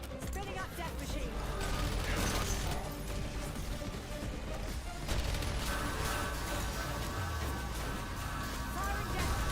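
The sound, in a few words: Death Machine minigun spinning up in Black Ops 6 Zombies video game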